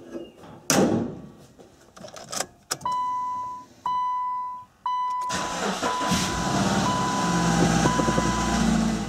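Car engine turning over during a catalytic converter and P0420 fault check, preceded by door and drawer-like clunks and chime beeps, then a steady loud idle rumble that runs to the end.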